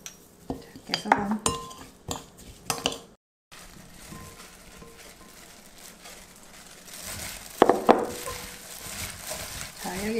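Cucumber and bellflower root salad with garlic, sugar, chili flakes, sesame oil, peppers and sesame salt being mixed by hand in a bowl, soft squishy rustles and clinks in bursts, with a brief silent gap.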